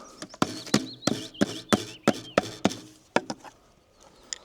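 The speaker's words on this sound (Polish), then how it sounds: "Nic na siłę, wszystko młotkiem" A hammer strikes repeatedly at close range, about a dozen sharp knocks in an uneven rhythm, tapering off toward the end.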